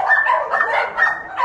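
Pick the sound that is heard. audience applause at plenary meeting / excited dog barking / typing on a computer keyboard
excited dog barking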